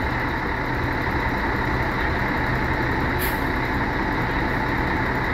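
A steady, loud Irizar coach engine idles in the Sorocaba bus station for Expresso Nordeste, a constant low rumble with one short hiss burst midway.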